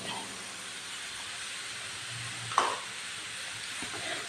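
Finely chopped large onions go into a hot pan for spinach rice, with a soft steady hiss and one brief sharp clink partway through. The sound stays fairly faint throughout, with no speech.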